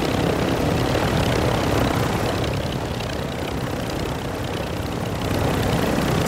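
A damaged helicopter in a video game roars with a loud, continuous rotor and engine wash that stays dense and steady throughout, with no voices.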